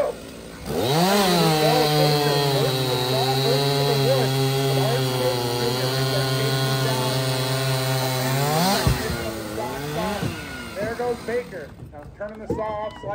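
A chainsaw roars at full throttle through a log in a timbersports race at the PNW Timberfest Trophy event, a long sustained loud cut with steady engine pitch before winding down near the end, an announcer's voice over it.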